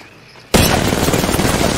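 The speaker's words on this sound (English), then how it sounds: "I am taking fire" Gunfire in a video game bursts in suddenly after a half-second lull, a loud sustained barrage of rapid shots and booms filling the rest of the moment.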